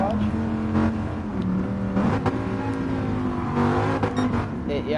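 A Dodge Viper engine in a video game revs and shifts through gears, pitch climbing and dropping repeatedly, with a voice talking over it.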